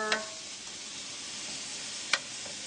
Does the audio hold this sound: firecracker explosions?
no